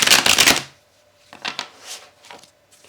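A deck of tarot cards shuffled in a loud, close riffle, followed by a few softer taps and slides as the deck is cut, with no talk.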